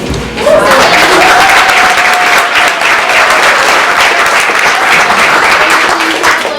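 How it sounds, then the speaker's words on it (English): Loud, sustained applause from a theater audience at a community play, dense clapping filling the space steadily for several seconds with a faint tone running underneath. "We want to give a big, warm round of applause to Mud Creek players for allowing us to use their facility for free."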